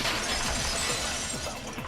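A vase shatters in the video game Danganronpa 2, a loud crash followed by a dense burst of breaking and tinkling fragments lasting nearly two seconds.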